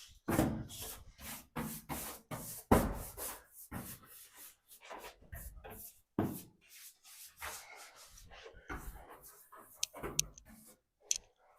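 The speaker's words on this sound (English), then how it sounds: "I'm going to brush this off." Brushing across a 1962 Dodge Dart body panel during primer prep, heard as close, irregular scratchy rubbing strokes with short pauses between them.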